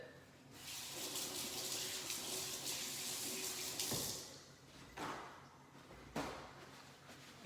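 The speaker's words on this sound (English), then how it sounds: "I'm gonna rinse my hands a little bit." Tap water runs steadily into a kitchen sink while hands are rinsed during home sushi preparation, a close hiss with brief splashes and clunks near the end.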